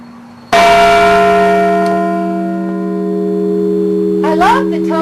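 A large church bell in a Richmond bell tower tolls once, loud and close, its long, rich tone ringing on and slowly decaying while a person briefly speaks near the end.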